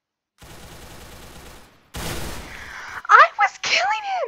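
Rapid bursts of video-game gunfire crackle in short volleys, followed by a shouting voice and a quick sharp exclamation near the end.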